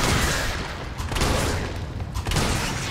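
Shotgun blasts from the Resident Evil 3 Remake video game, loud, dense booming shots in close succession with a brief lull between them, heard alone without talk.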